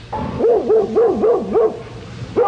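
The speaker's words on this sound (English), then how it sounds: "We've got a group of singing dogs here that Lassie's going to introduce." Dog barks and howling yips from a dog during a live stage show, in a string of rising, sing-song bursts close to the listener and fairly loud, ending with a short pause before one more yelp.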